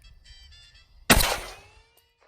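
An AK47 rifle fires a single round through a double stack of plates outdoors: one loud, sharp crack with a short decaying ring after a near-silent lead-in.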